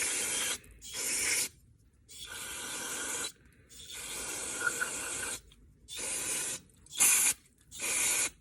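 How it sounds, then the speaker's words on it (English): Cleaner sprays in repeated hissing bursts into a KX125 dirt bike carburetor, about seven close, loud blasts of varying length separated by brief silences. "And then I'll take my spray here and spray all in my carburetor."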